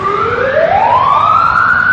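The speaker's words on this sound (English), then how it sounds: "And there's an ambulance." An ambulance siren wails loud and close at English Bay in Vancouver, its tone sweeping steadily upward over about two seconds with no talk over it.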